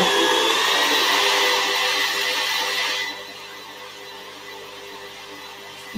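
An electric mixer runs on gentle speed through vanilla tray bake cake batter, giving a steady, close whirring drone that is loud for about three seconds and then settles to a quieter hum.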